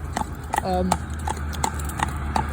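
Rufus, a cob horse, clip-clops steadily along a road, his hooves striking in an even walking rhythm, close and clear over a low outdoor hum, with a brief whinny-like tone partway through.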